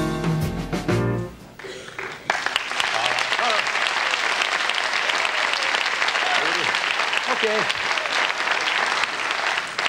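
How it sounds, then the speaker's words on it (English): Studio audience applause on The Tonight Show with Johnny Carson in 1975, a loud, dense clapping that swells after a brief break and holds steady. "You don't have to applaud every time we come back."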